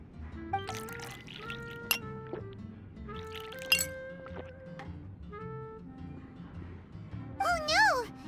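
Glasses chime and clink several times while juice pours in Genshin Impact, bright tonal pings over a low musical bed, ending with a rising, bubbly flourish.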